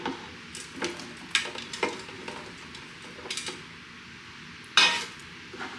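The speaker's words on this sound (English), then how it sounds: "I'm going to add in our veggies." Cooked vegetables, about two cups, tumbling into a pot of healthy plant-based mac and cheese, giving a few soft scraping and clinking stirs with a louder clatter near the end, close and fairly quiet.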